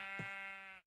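A single sheep bleats once from a Minecraft mod, a clean, wavering synthetic bleat lasting under a second that cuts off abruptly into silence.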